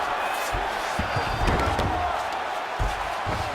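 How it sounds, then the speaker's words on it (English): Crowd noise swells at a UFC 326 fight between Max Holloway and Charles Oliveira as the fighters return to their feet after long grappling, a steady arena roar with brief thumps and louder surges under it. "crowd just loving it as the fighters, after an extended grappling battle, make their way back to the feet"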